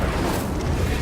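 Incendio fire spell cast in the video game Hogwarts Legacy: a dense, sustained whooshing roar of flame with a low rumbling body, loud and steady for about a second, no speech.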